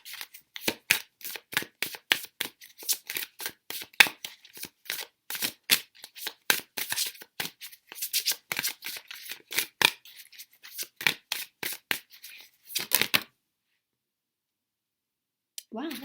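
Oracle cards being handled and shuffled for a card reading, a long run of quick crisp riffling clicks and snaps that stops abruptly, followed by a brief moment of quiet.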